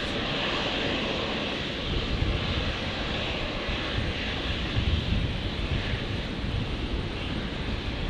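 A Virgin airliner departs Brisbane airport, its engines a loud, steady roar that swells slightly and holds throughout with no voices.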